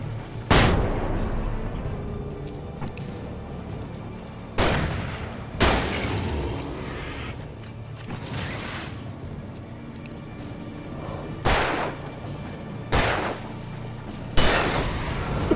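Gunshots in Alan Wake, sharp loud reports fired singly at irregular intervals, about seven across the stretch, each with a short echoing tail over a low background rumble.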